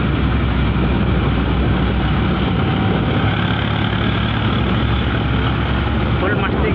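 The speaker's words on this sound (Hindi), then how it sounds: "फिलहाल ट्रैक्टर चल रहा है आराम आराम से" A tractor engine chugs along slowly with a loud, steady, dense rumble heard from on board, continuous throughout.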